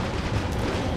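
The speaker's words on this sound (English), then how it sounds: "She's shooting at us!" Rapid, loud gunfire from a car chase in Marvel's Spider-Man, a dense continuous barrage of shots filling the whole moment with heavy low-end rumble and no pauses.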